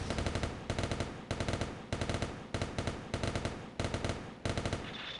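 Delta Gundam in SD Gundam Online firing a rapid series of loud, close gunshots in short repeated bursts with brief pauses between them, no talking.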